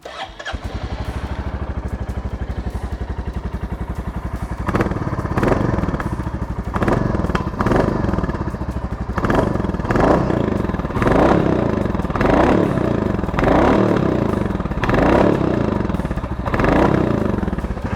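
A Royal Enfield Classic 350 motorcycle engine starts and settles into a steady, deep thumping idle, with periodic revs swelling and falling, loud and close throughout.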